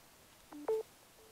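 A short pair of electronic beeps from a BioLite Solarhome 620 solar power system as charging starts, the second louder, followed a moment later by a faint single tone in an otherwise quiet room.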